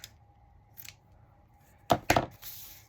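Scissors snip through lace fabric scraps for journal pages, a couple of light cuts early and then two sharp, close snips near the end, with no talking.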